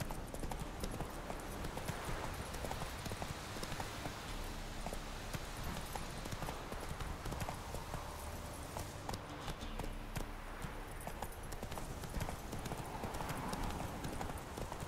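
Roach, a horse in The Witcher 3 video game, gallops in a steady, continuous clip-clop of hooves close by, with faint game ambience and an occasional brief voice underneath.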